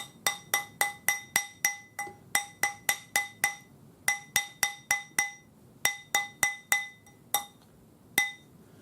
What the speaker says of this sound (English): if it's slightly small, so it's one size small, we can hammer it up, and I just use my jeweler's hammer.